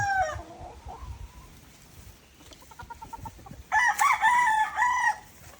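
Pet chickens in a rural provincial yard give short clucks, then a rooster lets out a loud, drawn-out crow near the end, moderately close, with no talk.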